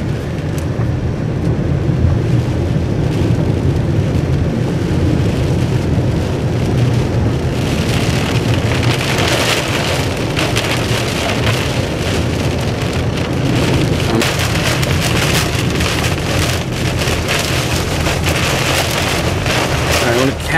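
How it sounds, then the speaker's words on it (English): Heavy rain pounding steadily during a tornado storm near Geneseo, Kansas, a dense loud roar of drops on a surface with low rumbling underneath, continuous for the whole stretch. "Try to get this rain out of here."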